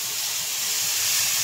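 Water poured into a pan of burnt rice and corn sets off a steady, close hiss of steam that continues without a break, with no talk over it.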